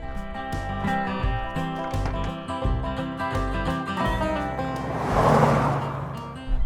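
A second-generation Chevrolet C10 pickup truck drives along, its engine rumbling steadily with a rising surge near the end, accompanied by clicks and rattles from the cab, with no voices.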